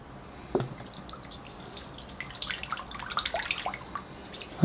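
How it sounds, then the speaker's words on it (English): Water pouring into a marble bonsai pot before drilling, close irregular splashes and trickles against a hissing background. "All right, in goes the water."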